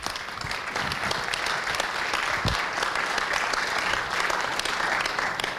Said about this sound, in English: And I believe we should all give her a huge round of applause.